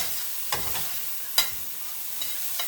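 Green onions stir-fry in a pan for vegan vegetable fried rice, giving a soft steady sizzle with a few brief scraping clicks from stirring, close and fairly quiet with no talk.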